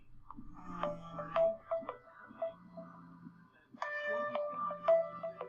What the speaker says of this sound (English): And phone is ringing.